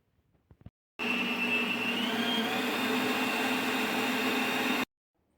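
An electric mixer runs steadily for about four seconds, beating a quick cuca cake batter made with starch and baking powder; a loud, even whir starts abruptly and stops cleanly.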